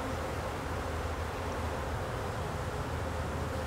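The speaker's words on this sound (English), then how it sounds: "Bees hatching out there." Bees buzz around a hive during a hands-on beekeeping session outdoors, a continuous, even drone that stays close and steady throughout with no talk over it.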